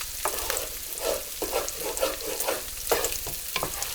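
Eggs being stirred in a hot pan for a kielbasa stir-fry, with a spatula scraping and tapping in irregular strokes over a steady close sizzle and no talking.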